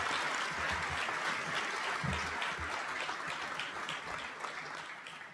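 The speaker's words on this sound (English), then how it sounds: "let's give a big round of applause to the class of 2023" A big crowd applauds the class of 2023 at a high school commencement, continuous clapping heard from a distance at fairly low level, with a few low thumps early on and a gradual fade toward the close.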